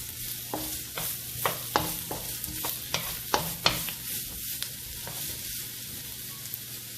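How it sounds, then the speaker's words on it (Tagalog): Onions sautéing in a pan for a coconut-milk seafood dish, soft steady sizzling broken by a series of sharp spoon scrapes and taps against the pan, fairly quiet and close, with no speech. "Isote lang natin guys yung sibuyas o yung onion"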